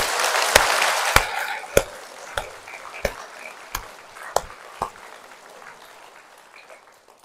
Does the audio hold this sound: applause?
yes